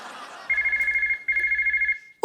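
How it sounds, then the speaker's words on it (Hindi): A telephone rings in a comedy show sketch, two bursts of a bright, rapidly trilling electronic ringtone heard close and clear, separated by a short pause, with a voice starting to speak just as it ends. "ओ मम्मी का फोन।"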